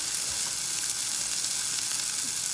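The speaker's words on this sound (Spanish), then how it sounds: "El arroz está hirviendo ahora." Rice boiling in a pot for a Latin rice-and-beans dish, a steady close bubbling hiss that sounds much like sizzling, continuous and even across the clip with no talking.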